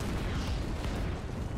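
Dynamite set off with a plunger detonator in Red Dead Redemption 2, a loud, broad roaring blast that fills the whole moment with sustained rumbling debris and no speech.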